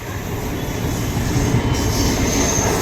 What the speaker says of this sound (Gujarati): આ બીજી ટ્રેન જઈ રહી છે